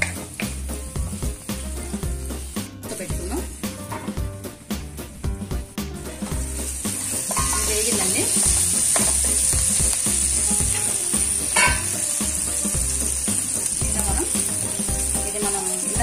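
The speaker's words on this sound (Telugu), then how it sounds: "ఒక 2-3 మినిట్స్ ఫ్రై అవ్వాలి" Masala paste of tomato, onion and spices fries in a pan for paneer butter masala, a steady close sizzle that grows louder and denser partway through, with scraping and clinking of stirring over it.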